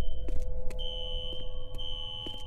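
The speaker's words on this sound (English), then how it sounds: "A fire alarm. It was triggered at a security office on that floor." A fire alarm rings in the video game F.E.A.R., triggered at a security office: a steady, shrill high electronic tone with a lower hum beneath, holding continuously with faint intermittent clanks and no talk.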